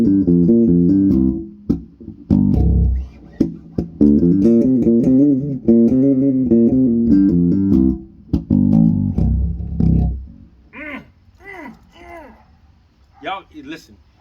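A 1997 Jazz bass tuned to standard E, fitted with Audere electronics, plays sustained, ringing notes for about eight seconds, followed by sparser, quieter sounds with a few bright, voice-like chirps.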